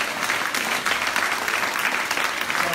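A church congregation claps in steady, continuous applause, a dense crowd of hands sustained throughout, with a little voice mixed in underneath.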